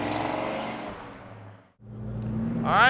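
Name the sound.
1969 Pontiac GTO convertible engine accelerating while driving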